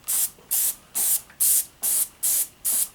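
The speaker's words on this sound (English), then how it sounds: "now I'm just going to start spraying it" A spray gun applies Duracoat coating to AR-15 parts in seven short, evenly spaced hissing bursts, each about a quarter second long, loud and close, with quiet pauses between.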